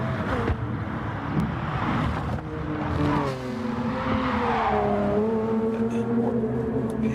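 A race car in Gran Turismo drifting sideways, engine droning steadily with sweeping pitch while tires squeal and scrub continuously, loud and close for the whole stretch.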